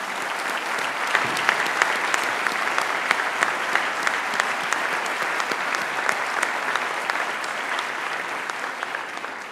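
An audience at a closing plenary session applauds the co-chairs with steady, dense clapping from many hands, sustained and even for the full stretch with no voices standing out.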